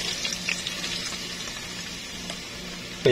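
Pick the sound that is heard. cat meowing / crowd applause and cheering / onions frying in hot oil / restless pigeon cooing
onions frying in hot oil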